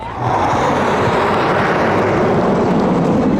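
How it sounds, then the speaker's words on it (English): A jet aircraft roars past at an air show with a loud, continuous broadband rush that swells in at the start and holds strongly throughout, with no talk over it. "Oh, you hear it, buddy? Sweet. I see the fire. Yeah. Look at the jet. Look how fast it goes."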